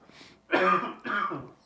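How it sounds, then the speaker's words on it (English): A person clears their throat a couple of times with short, raspy coughs, close and brief. "that's when the tickle and the cough starts"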